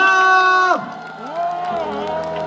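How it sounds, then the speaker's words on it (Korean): Festival crowd at a night outdoor concert breaking into applause and cheering, a loud sustained roar that swells and holds, with an amplified announcer's voice rising over it. "자, 다시 한번 박수 함성!"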